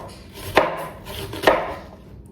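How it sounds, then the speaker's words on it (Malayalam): A knife chops cabbage for cabbage upperi, a Kerala stir-fry, in a home kitchen: two sharp, close blade strikes against a cutting board about a second apart, with no one speaking. "ക്യാബേജ് ഉപ്പേരിക്ക് അതൊക്കെ ഞാൻ സെറ്റാക്കി വെച്ചിട്ടുണ്ട്. അരിഞ്ഞിച്ച് കഴിഞ്ഞാൽ ഉണ്ടാക്കാൻ കുഴപ്പമില്ലല്ലോ."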